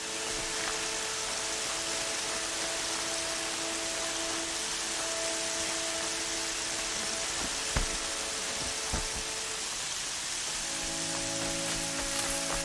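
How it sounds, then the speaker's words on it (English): Steady rain in the video game Horizon Zero Dawn patters continuously, with a few sharper drops and a low tone entering near the end. "It's raining now."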